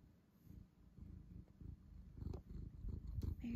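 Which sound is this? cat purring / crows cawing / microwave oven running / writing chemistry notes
cat purring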